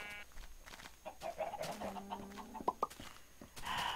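Chickens cluck in the Minecraft video game, several short bird calls and clucks over a few seconds, close and clear with rustling game sounds and no talk.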